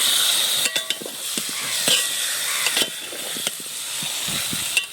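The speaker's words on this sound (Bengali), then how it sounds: "একটু তেল দিয়ে মাংসটা দিয়ে দিচ্ছি। এখন বেশ ভালোভাবে মশলার সাথে মাংসটা আমি মিশিয়ে নেব।" Chicken pieces marinated in salt and turmeric go into oil in a handi and are stirred with spices, producing soft sizzling broken by repeated scraping clicks of a utensil against the pot.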